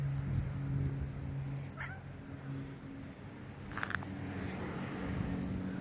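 A kitten meows once, a short, fairly close call over a steady low hum of passing road traffic, followed later by a brief, sharper second cry.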